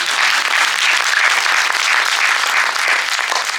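Sustained audience applause after a stage play, a dense, even wash of many hands clapping at steady loudness throughout, with no voices standing out.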